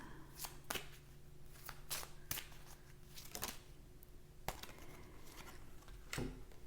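Tarot cards shuffled by hand in a series of crisp riffling bursts and soft slaps, close and fairly quiet, with no talking over the brief pauses between shuffles.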